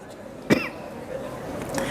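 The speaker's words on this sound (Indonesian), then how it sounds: "Bentar ya, batuk." A single short cough bursts out amid quiet room tone and faint background chatter, brief and fairly close.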